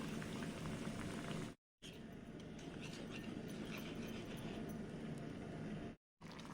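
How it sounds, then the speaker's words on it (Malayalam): Jaggery-sweetened liquid bubbles at a boil in a pot, a dense, even crackle and patter that holds steady, broken by two brief silent gaps. "തിളച്ചിട്ടുണ്ട്."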